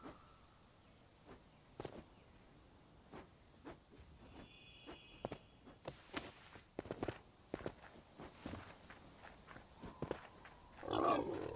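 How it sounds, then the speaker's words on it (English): Pigs in the video game Hytale grunting softly amid a steady patter of footsteps, with low snorts scattered through the scene and a brief louder burst near the end. "You noisy piggies."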